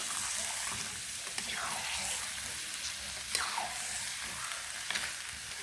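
Pangas fish pieces with potatoes and spices being fried in a pan, giving a soft, continuous sizzle with occasional stirring scrapes and faint background sounds.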